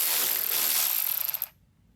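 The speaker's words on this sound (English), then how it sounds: "we have to undo this bolt first" Ratchet wrench undoing a bolt on a Mercedes Sprinter charge air cooler, a fast, close whirring of clicks running for about a second and a half before stopping.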